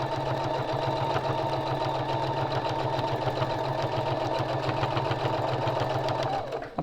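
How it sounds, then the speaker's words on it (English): A sewing machine stitches binding onto a quilt in one steady, continuous hum with a fast regular needle chatter, close and fairly loud, slowing and stopping at the very end. "I'm going to continue sewing till I'm 2 inches away from the corner"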